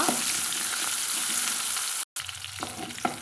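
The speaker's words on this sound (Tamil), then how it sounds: "வெங்காயம் நல்லா நம்மளுக்கு வதங்கி வந்துடுச்சுங்க பொன்னிறமாக வதங்கி வந்தது" Chopped onions sizzle in hot oil in a pan while cooking for a brinjal kuzhambu, with a steady close frying hiss, a brief gap, then occasional stirring scrapes.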